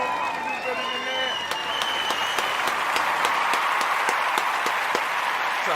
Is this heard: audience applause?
yes